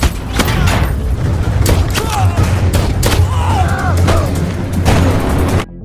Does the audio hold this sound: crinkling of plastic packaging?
no